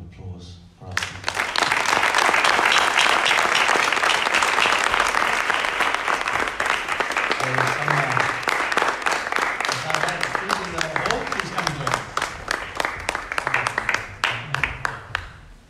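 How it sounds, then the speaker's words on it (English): Warm, sustained applause from an audience after a talk on Sanskrit poetry, dense clapping filling the room for about fifteen seconds and slowly thinning toward the end. "join me in a wonderful, warm round of applause for our speakers"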